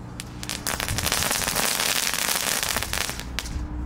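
Newly bought consumer fireworks go off nearby in a dense, loud crackle of rapid pops that starts almost at once and keeps up steadily throughout.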